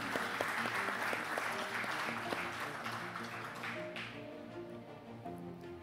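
Audience applause for a speaker introduced at a banking conference's annual meetings, steady clapping from a crowd with some individual sharp claps, continuous throughout and fairly even in level, with a tonal hum or music faintly underneath.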